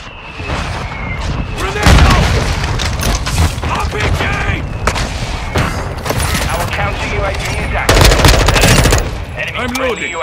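Close, loud machine-gun fire and a grenade blast in Call of Duty Modern Warfare 2, with dense rapid bursts and heavy booms across the clip and voices talking over the combat.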